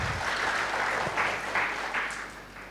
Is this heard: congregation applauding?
yes